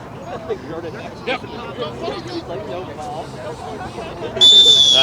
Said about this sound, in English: There is that whistle for that second half.